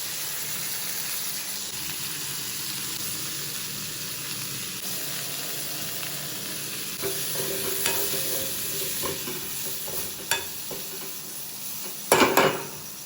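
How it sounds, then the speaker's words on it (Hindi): Potatoes, onions and spices fry in a kitchen pan with a continuous hissing sizzle, joined later by stirring scrapes and a few louder clanks of utensils against the pan near the end. "यहाँ इसी में डाल दिया आलू प्याज और सारे मसाले डाल दिए"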